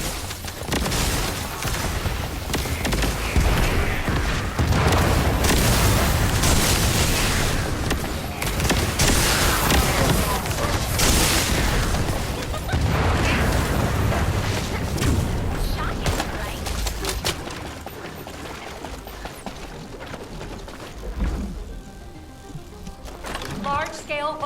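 In The First Descendant, a Vulgus aircraft is shot down with continuous heavy gunfire, booms and explosions filling the scene loudly for about twenty seconds before easing off, while game dialogue plays over it.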